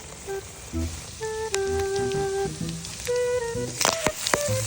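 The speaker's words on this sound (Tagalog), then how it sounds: "Takot na takot sa tilabsik ng mantika." Pork for adobong sitaw frying in hot oil, with a loud, close sizzle full of crackling pops and splatters, plus a few short squeaky tones.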